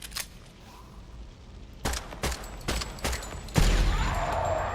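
Incendiary rounds fire in Project Silverfish as several sharp separate shots at irregular intervals, followed by a louder blast that leaves a sustained burning hiss.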